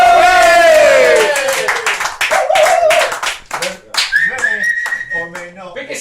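Guests at a football club's end-of-season awards night clap and whistle, sharp handclaps mixed with shrill whistles and loud whoops, close and lively, with voices shouting over it.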